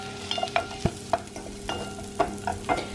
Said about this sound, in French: j'ai mis les oignons, le chorizo, un petit peu d'huile d'olive et je fais revenir un petit peu le tout